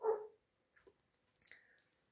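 A dog gives one sharp, fairly close bark, followed by a quiet pause and then a few faint, short yips or whimpers.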